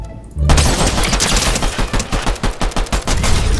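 Rapid bursts of pistol and automatic gunfire in a Fortnite match, loud and continuous with dense overlapping shots and a few heavier booms mixed in.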